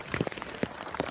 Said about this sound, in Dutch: Het regent heel hard